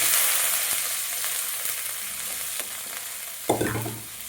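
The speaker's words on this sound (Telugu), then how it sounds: "క్యాబేజీ, క్యారెట్, కాలీఫ్లవర్ ఇలా మనము అన్ని ఆయిల్లో వేసుకోవాలండి" Cabbage, carrot and cauliflower frying in oil, a close, steady hiss and sizzle with light stirring scrapes and a brief louder clatter near the end.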